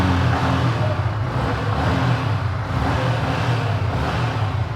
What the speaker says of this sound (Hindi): थ्रॉटल देता हूँ,